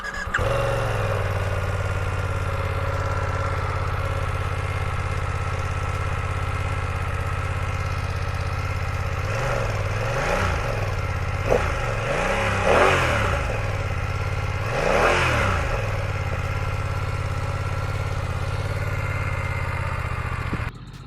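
A 2021 BMW F900 XR motorcycle, 895 cc twin, idles steadily and then blips its throttle in three rising revs before settling back to a close, loud idle.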